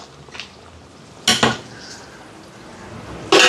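Chicken curry pot being lifted off a stove, with two quick metallic clanks of pot against the burner grate in the middle and another sharp clatter at the end, over faint kitchen background.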